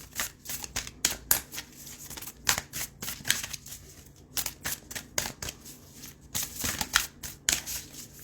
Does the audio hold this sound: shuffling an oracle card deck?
yes